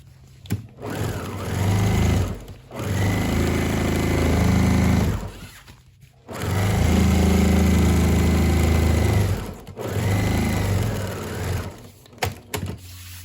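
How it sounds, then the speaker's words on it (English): A sewing machine stitches straight across an outdoor-fabric pad for a hard metal chair in three loud, close runs of steady mechanical hum, separated by brief pauses and small clicks. "Now that I've got those done, I can just sew straight across here."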